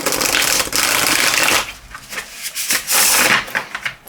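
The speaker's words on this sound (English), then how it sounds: "being linen, these cards are incredibly easy to shuffle, even with all of the extra oracle cards" Linen-finish tarot cards from the Northern Animal Tarot deck, thick with extra oracle cards, riffle-shuffled up close in dense papery bursts, a long continuous shuffle followed by shorter choppy flutters.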